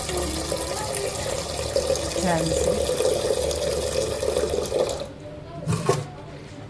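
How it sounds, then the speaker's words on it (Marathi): Home-grown toor dal lentils being washed in water, a steady splashing and running-water wash that ends in a final slosh, with someone speaking briefly over it. "आता याच्यामध्ये 2 पाण्याने धुवून घेते"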